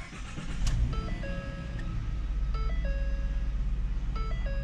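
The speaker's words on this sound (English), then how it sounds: "I'm going to start the truck up to see if that code shows" The engine of a 2013 Ford F150 pickup cranks and catches, then settles into a low, steady idle. Repeating electronic chimes from the dashboard sound over the engine.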